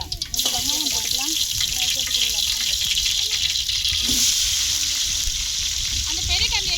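Cinnamon, cloves, fennel seeds and onions hit hot oil in a pot while cooking outdoors in a farm field, sparking a sudden, loud, continuous sizzle that hisses steadily for several seconds.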